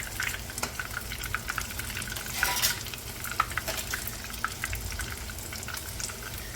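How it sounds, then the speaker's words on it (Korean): Oil sizzles and crackles steadily in a pan as a pork cutlet (tonkatsu) fries, a dense frying hiss with small pops scattered throughout, close by and with no talking. "기름 이렇게 튀기는 소리는 정말"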